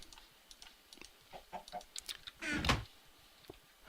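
Chickens in Minecraft make soft, faint clucks among light clicking sounds, with one brief louder burst partway through, all at a low overall level.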